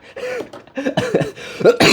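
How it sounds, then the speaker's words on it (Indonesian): A person coughs and clears their throat several times in quick succession, loud and very close. "Aduh, saya batuk gua"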